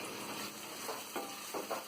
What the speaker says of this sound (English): Now I am adding chopped tomatoes.